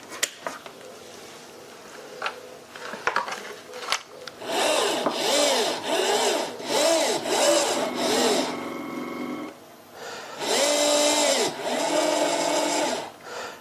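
A brushless turret rotation motor in a one-sixth scale Armortek Panzer IV model runs on the bench in repeated whining bursts, a steady electric hum with rising and falling tone, several seconds each, following some handling clatter.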